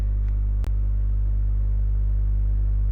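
A car drives in an anime scene as a steady low engine rumble holding level throughout, cut by one brief sharp click partway through, with no talk.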